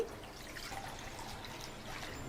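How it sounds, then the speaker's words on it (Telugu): Drinking water poured into a wide kadai, a soft steady trickle and dribble heard faintly and close, with no talk. "వెడల్పుగా ఉండే ఒక కడాయి తీసుకుని అందులో ఒక 2 గ్లాసులు డ్రింకింగ్ వాటర్ని యాడ్ చేసుకోవాలండి"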